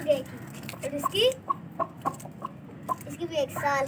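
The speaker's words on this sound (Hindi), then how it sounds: "ये मुर्गा देखिए।" A white aseel rooster, a year old, gives short clucks and soft calls at close range, scattered between a child's and adults' voices talking over it.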